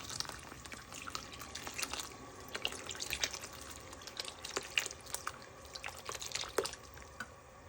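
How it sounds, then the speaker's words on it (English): Orange juice pours into a turkey brine in a steady, faint trickle with scattered drips and splashes, quiet and close, with no talking. "Okay, the orange juice I'm gonna put now"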